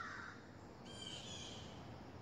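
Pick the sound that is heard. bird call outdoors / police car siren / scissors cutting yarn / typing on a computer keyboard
bird call outdoors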